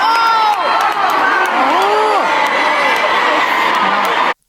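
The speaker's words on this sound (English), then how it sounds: "It's funny how people are booing." At a concert, a large crowd boos loudly, a sustained roar of many voices with wavering, drawn-out tones and scattered shouts that continues without a break before cutting off abruptly.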